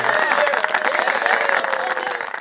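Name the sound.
crowd cheering in a chamber, audio drama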